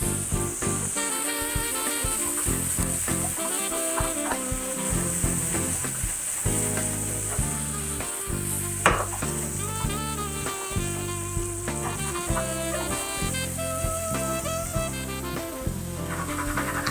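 Garlic and shallots sizzle steadily in a hot pan for a white wine sauce, a close, continuous frying hiss with faint crackles throughout, with music playing alongside.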